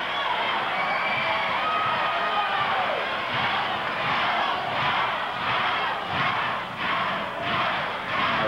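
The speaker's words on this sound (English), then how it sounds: "a chant of go, go, go by the crowd" Wrestling crowd at a Portland event chanting go, go, go in a rhythmic surge, a dense roar of many voices with pulsing emphasis near the end, loud and continuous throughout.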